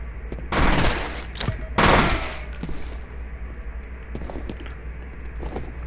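Automatic gunfire from the video game F.E.A.R., two loud bursts in the first two seconds followed by scattered fainter shots against a low ambient hum.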